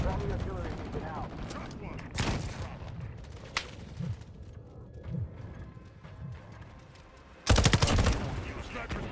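Artillery strike called in during a Warframe-style shooter match, arriving as a dense burst of loud explosive blasts near the end, preceded by scattered thuds, clicks and mechanical game sounds with faint voices underneath.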